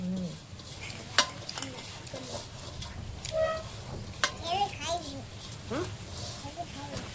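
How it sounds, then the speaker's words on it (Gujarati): A spoon stirs and mixes food in a pan during home cooking with cumin and mustard seeds, producing soft scraping and clinks with light sizzle, under near-constant conversation including a voice. "હવે આમાં બધું મિક્સ કરી નાખવાનું"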